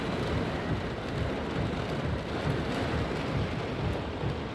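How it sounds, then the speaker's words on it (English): Heavy rain pours steadily outdoors, a dense, continuous wash of close, loud hiss with no breaks and no voices. "Yeah, it's raining outside."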